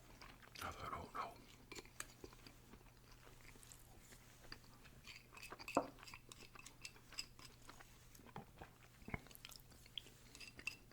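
Someone eats chili up close for ASMR, with soft, irregular wet chewing and biting sounds, occasional faint clicks of cutlery, and a quiet background hum.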